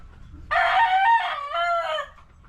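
A Boston Roundhead gamefowl rooster gives one loud, close crow lasting about a second and a half, with no voices over it.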